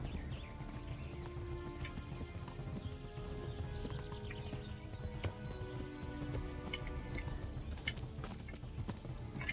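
Hooves of a horse in Kingdom Come: Deliverance clip-clop at a steady walk, quiet and close, over a dense, continuous backdrop of game ambience.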